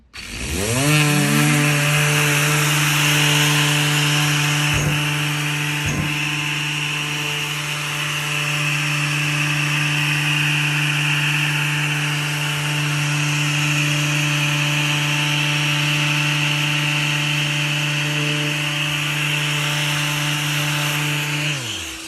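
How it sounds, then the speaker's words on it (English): Power sander working over an MDF door, a loud steady motor whine that spins up at the start and holds constant with abrasive rubbing, close and alone without talk. "Pay attention to how the sander is up off the surface as I sand."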